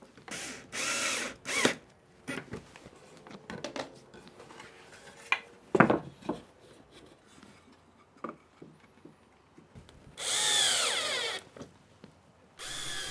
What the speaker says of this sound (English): I'm screwing most of it together